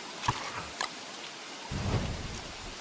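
Rain and thunder in a video game, a soft steady patter of rain with a couple of faint cracks and a low rumble rising near the end.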